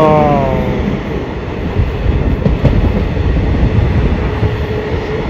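A train rumbles loudly along the tracks nearby, a continuous heavy roar with rattling wheels and a fading tone at the start.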